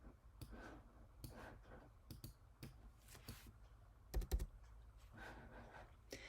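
Soft tapping of keys as a value is typed on a computer keyboard, a few scattered quick clicks in short bursts, faint and close in a quiet room.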